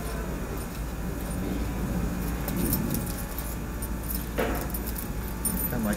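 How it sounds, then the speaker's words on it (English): A bunch of keys jangling close by in bursts of light metallic rattles over a steady background hum, with no clear speech. "got my keys"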